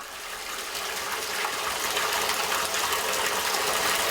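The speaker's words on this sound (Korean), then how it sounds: "바닷물 들어왔어. 바닷물 좀." Seawater gushes steadily into a tank for holding live raw fish at a warehouse, a loud, continuous rushing pour that builds slightly and holds, with no talking over it.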